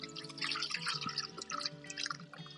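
Liquid poured from a bucket into the top of a GreenStalk vertical planter, a soft continuous trickling and splashing, fairly faint and steady throughout.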